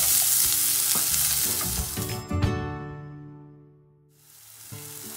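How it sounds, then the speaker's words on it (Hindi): Small chopped onions sizzle loudly in a hot pan while being stirred for stuffed capsicum, a dense, close frying hiss with scraping stirs that fades toward the end before the sizzle picks up again. "हम इसमें जो हमने प्याज काटे थे छोटे छोटे उसको हम इसमें डाल देंगे, और इसको ऐसे घचर घचर घचर घचर चला देंगे थोड़ी देर"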